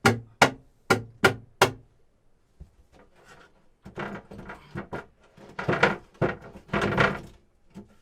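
Several sharp hammer strikes in quick succession, then a pause, followed by scraping, knocking and more irregular metallic banging nearby, while a chart table is installed aboard an Alberg 30 sailboat.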